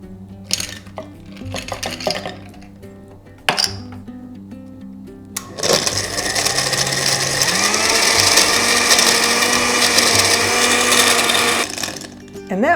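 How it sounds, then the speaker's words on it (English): A blender runs at full power on watermelon salsa with water and ice, a loud steady whirring grind that holds for several seconds after a few short clunks and bursts as ingredients are added. "Put it in my blender, and I'm going to blend it."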